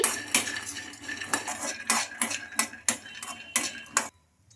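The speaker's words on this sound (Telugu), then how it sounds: "ఈ పల్లీలను బాగా ఫ్రై చేసుకోవాలి" Peanuts being dry-roasted in a kadai, stirred with a metal spatula: about ten loud, regular scraping clinks and rattles against the pan, close up, ending in sudden silence.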